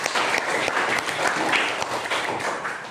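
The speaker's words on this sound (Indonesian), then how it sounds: "Tepuk tangan untuk kita." A seventh-grade class bursts into dense, lively applause. The clapping comes from many hands and runs steadily for a few seconds at close range.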